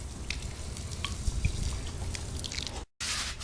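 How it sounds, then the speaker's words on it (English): Liquid chlorine from a fresh case is poured straight onto algae on a swimming pool surface before an acid wash, giving a steady wet fizzing, splashing sound throughout, then a brief silent gap near the end. "I'm going to pour it on directly onto the algae and brush it off."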